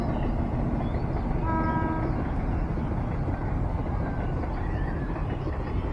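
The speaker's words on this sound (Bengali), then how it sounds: "মনে হয় ট্রেন যাচ্ছে।" A train passes near an old palace by the water, its rumbling roar steady and loud throughout with a brief horn tone partway through.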